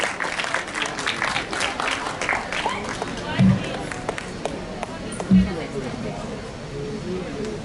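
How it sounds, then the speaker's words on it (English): Audience applause at a school Model UN closing ceremony, moderately loud clapping from a hall crowd continuing steadily, with murmuring voices underneath and a couple of louder bumps. "A huge round of applause, please."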